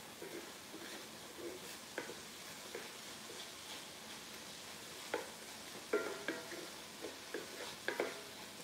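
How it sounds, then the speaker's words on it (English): Chopped onions and garlic sauté quietly in a pan for a shepherd's pie, a faint steady sizzle broken by a few sharp stirring scrapes and clicks toward the end, with no talk. "And continue to saute."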